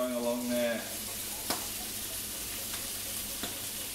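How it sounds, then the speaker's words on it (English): Pork saltimbocca sizzling in a hot pan, a steady hiss of frying with a few soft clicks of the pan, heard after a brief stretch of talk at the start. "Get a nice bit of a sizzle"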